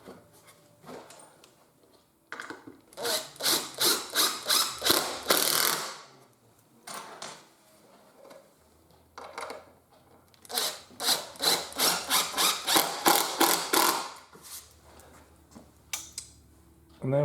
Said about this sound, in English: and we can put some screws in